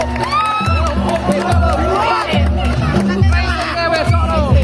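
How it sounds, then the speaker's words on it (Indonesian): A crowd cheers and whoops at a Cempaka Putih pencak silat inauguration ceremony in Tangsel, with loud, continuous shouting and voices over a steady low rhythmic drumming or music beat throughout. "tepuk tangan yang luar biasa"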